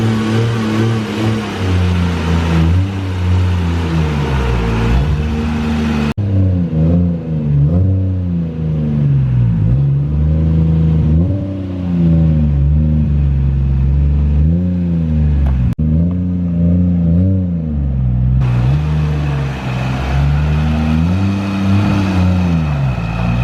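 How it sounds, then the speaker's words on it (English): A Nissan 300ZX with a Toyota 1JZ engine revs and drives up close on the street, rising and falling through gears with a loud, throaty mechanical roar and brief dips between pulls. "you guys ready to hear the 1JZ powered 300ZX?"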